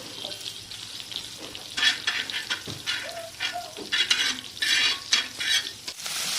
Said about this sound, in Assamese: এয়া আকৌ কলফুল যে বইল হ'ব দিছিলোঁ, ডাইৰেক্ট কেৰাহীত দি দিলোঁ এতিয়া ফ্ৰাই হ'বৰ কাৰণে।